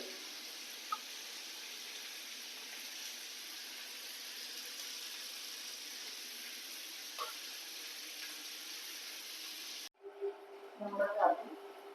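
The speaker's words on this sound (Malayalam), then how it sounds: "നമ്മുടെ മീനിവിടെ വറുക്കാട്ടിട്ടുണ്ട്" Steady sizzling of fish frying in a pan, continuous and close, with a few faint clinks and stirring noises near the end.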